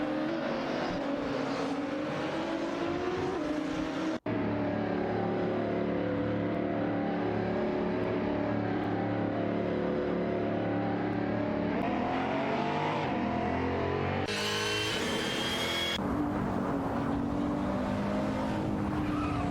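Racing-game engines from a BMW M6 GT3 and Jaguar F-Type GT3 roar continuously, with rising and falling revs, gear shifts and occasional tire squeal in a dense, loud mix.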